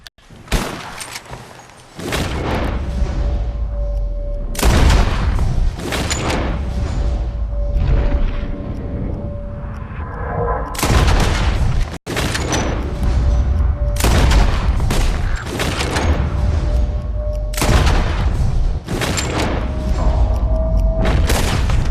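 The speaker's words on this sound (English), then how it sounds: "You shoot 4 birds out of the sky before me, you win." Loud, sharp rifle shots in Red Dead Redemption 2 crack out one by one while birds are shot from the sky outdoors, about eight booming reports spaced a few seconds apart, each with a rolling echo.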